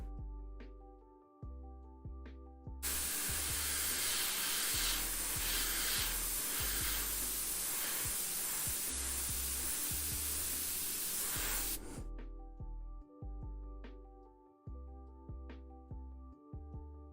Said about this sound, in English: When I hold it at a certain angle, it hisses.